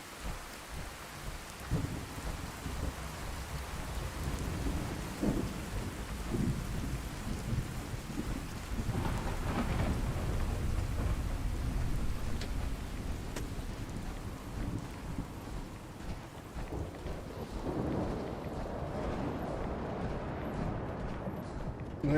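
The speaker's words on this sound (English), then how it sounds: "Look, the rain's here." Rain pours and thunder rumbles deeply in a Fallout video game storm, with long rolling low booms swelling and fading over a steady hiss of rainfall and wind.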